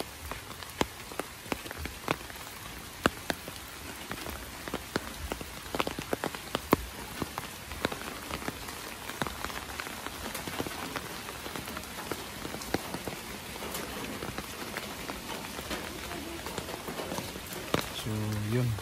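Heavy rain falling steadily on surfaces outdoors, a dense continuous patter with scattered sharper drops throughout, with speech-like sound also detected.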